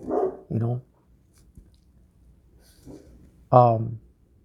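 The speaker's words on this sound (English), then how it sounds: "I'm pretty sure you guys can hear my dogs. I have 2 Rottweilers" A pair of Rottweilers bark behind a fence, two loud quick woofs at the start and another sharp bark near the end, with quieter sounds in between.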